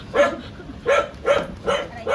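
A dog barks close by, five quick regularly spaced barks, loud and clear against a quiet indoor background.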